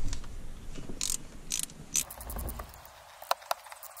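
Metallic ratcheting clicks and brief mechanical rattles come from a wrench loosening bolts on a Dodge Challenger Barton shifter, in scattered short bursts with quiet gaps, heard close up without talk.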